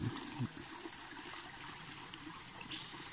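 A mountain stream in a forest runs with strong flow after a wet season, giving a steady, close rushing and trickling of water that continues evenly with no talk.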